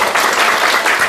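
Students in a lecture hall clap together for a real-estate tax law class, a dense, steady burst of applause filling the whole short moment at close range with no talk over it.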